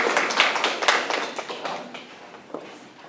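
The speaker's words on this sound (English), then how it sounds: "Everybody's getting applause today." Applause from an audience at a village council meeting, a scattered, moderately loud burst of claps that fades out over about three seconds.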